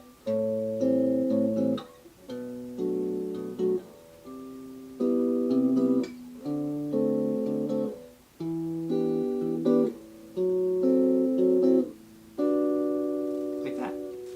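Jazz guitar stepping through a chord scale in G across the fretboard, a series of evenly spaced strummed chords moving up the neck, clean and moderately quiet with no talking.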